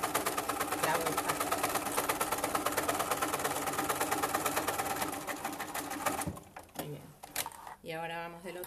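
Sewing machine stitching slowly through thick denim, a fast even mechanical rattle for about six seconds that stops into quieter handling noises, with someone talking over it.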